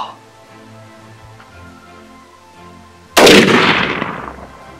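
On an elk hunt, a single loud rifle shot cracks sharply after several seconds of quiet outdoor stillness, its blast echoing and decaying over the next second or so.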